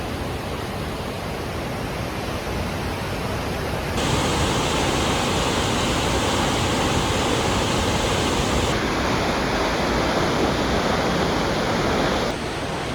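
Broadband rushing water from a waterfall in Washington, a steady continuous roar that grows louder and denser partway through, with no voices.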